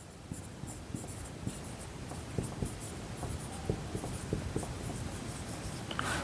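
Pen or chalk writing by hand while working a Class 9 profit-and-loss maths problem, a steady run of short scratchy strokes with irregular taps, close and fairly quiet, no talking.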